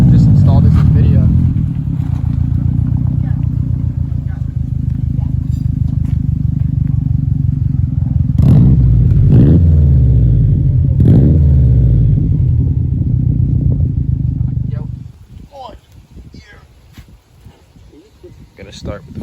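A 2005 Subaru STI with a newly installed Invidia exhaust idling with a deep, loud rumble and blipping the throttle in a few revs before shutting off, followed by quieter shuffling and a voice briefly speaking.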